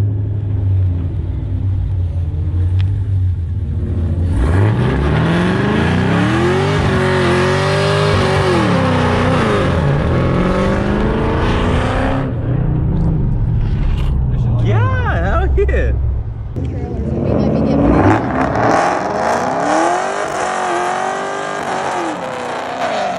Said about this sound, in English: I think Case's doing a burnout now.